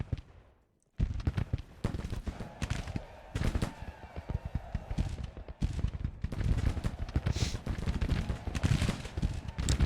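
Brigade musket volleys in the Grand Tactician: The Civil War battle at Champion Hill, a dense, continuous crackle of many rifles firing at once after a brief quiet start, steady and rolling throughout.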